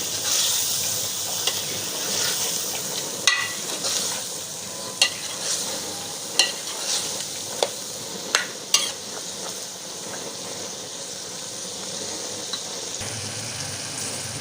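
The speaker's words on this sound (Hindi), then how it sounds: "चम्मच की मदद से अच्छी तरह से इसको मिक्स कर लेंगे।" A metal spoon stirs green peas into a sizzling masala in a pot, with soft frying hiss throughout and several sharp clinks of the spoon against the pan.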